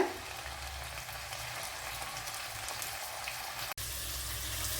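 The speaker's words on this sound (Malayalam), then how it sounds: "ഇനി ഈ ഓയിലേക്ക് നമ്മൾ പുരട്ടി വെച്ച ഫിഷ് എടുത്ത് ഇട്ട് കൊടുക്കുക" Hot oil in a pan sizzles and crackles steadily as spice-coated fish fries, with one brief moment of near silence just before the end.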